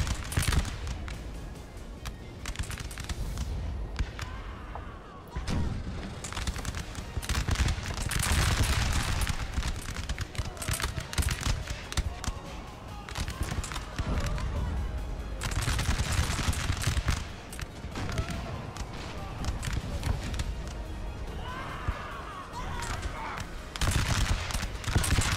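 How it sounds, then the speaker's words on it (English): Massed rifle volleys in Napoleon Total War, dense crackling gunfire rolling continuously with overlapping bursts and distant booms, loud throughout, with some speech faintly underneath. "get more rifles firing"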